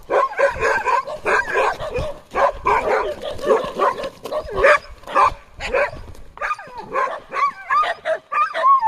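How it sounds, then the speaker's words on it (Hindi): Two dogs bark repeatedly outdoors at an Indian wildlife area, with rapid, loud yips and barks that overlap in busy bursts, some whimpering, and short pauses between volleys. "इधर कुछ है, काफ़ी देर से दोनों भौंक रहे हैं।"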